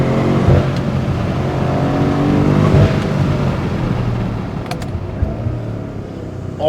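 A BMW M5 roars as it accelerates hard, spinning its tyres in a burnout, the engine's loud rising drone heard from inside the car with rumbling tyre noise.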